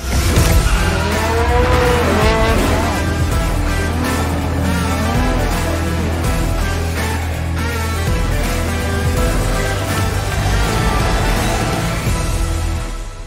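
An SUV engine climbs a hill, droning close and loud as its revs rise and fall, with occasional tire noise under a steady, continuous engine note.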